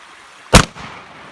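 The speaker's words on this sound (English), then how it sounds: "Alright, I'm gonna shoot it again." A single loud shotgun blast fired at a backyard swimming pool, a sharp close boom with a short rumbling tail and a faint echo just after.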